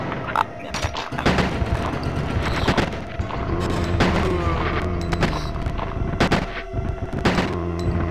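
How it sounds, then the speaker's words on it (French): Repeated gunshots ring out while zombies are gunned down in Resident Evil 2, a dense, loud run of bursts layered over steady in-game background sound. "Je crois que c'est 4 balles pour abattre un zombie."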